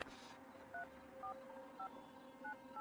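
A telephone keypad is dialed, giving a series of clear, evenly spaced beeps, close and distinct over a faint steady hum.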